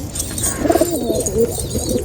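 Pigeons at a pigeon keeper's loft in Nashik coo softly in low, rolling calls close by, overlapping one another.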